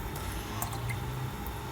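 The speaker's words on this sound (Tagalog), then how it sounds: "ihanda natin yung ating pressure cooker. Ayan, ilagay natin tubig at ilagay natin yung pata natin" Water is poured into a pressure cooker holding pork leg, a close, continuous liquid splash with wet dripping and squishing textures at a steady moderate level, no voices.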